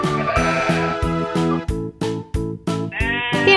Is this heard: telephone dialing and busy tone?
no